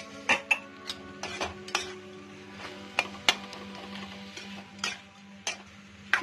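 Masala for chole roasts in a pan while a spatula stirs it. Repeated clanks and scrapes land in an uneven rhythm over a soft sizzle and a steady background hum.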